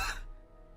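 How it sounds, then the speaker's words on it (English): A single short cough, close and fairly soft, that quickly fades, with no talking. "I just coughed."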